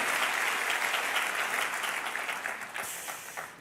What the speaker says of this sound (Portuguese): Aplauda Jesus pela vida destes homens e mulheres de Deus.